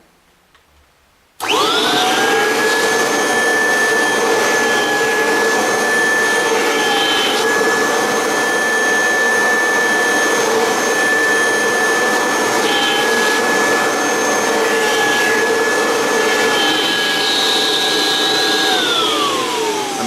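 A Kirby vacuum cleaner starts abruptly and runs with a loud, steady high-pitched whine and airflow roar while its upholstery tool works across a cushion. The pitch sags near the end.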